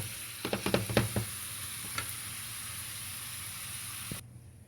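Meat sizzles steadily in a hot pan with a few sharp clatters of stirring near the start, then the frying hiss carries on alone before cutting off.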